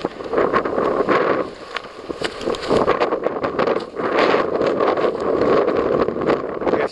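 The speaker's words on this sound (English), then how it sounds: "A little windy." Steady gusting wind buffets the microphone on a hike in the Belknap Range or White Mountains, a continuous rushing roar that swells and dips over several seconds with no one talking.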